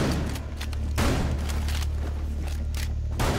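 Loud gunfire from a shotgun in the tactical shooter Rainbow Six Siege, with heavy booming blasts near the start and about a second in, set over a dense, continuous wash of game noise.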